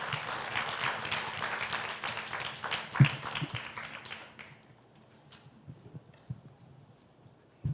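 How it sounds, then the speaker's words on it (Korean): Audience applause at a church leadership conference welcoming a pastor and staff member to the stage, a dense wash of clapping that fades after a few seconds into scattered individual claps and quiet room noise. "우리 큰 박수로 환영하겠습니다"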